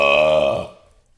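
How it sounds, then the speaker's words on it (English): A single long, loud burp rumbles close up for about a second before trailing off into quiet, heard alone with no talking. "that burp stinks"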